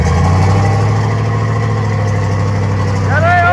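A car's diesel engine idles loudly and close by with a steady, even rumble, and a voice breaks in briefly toward the end.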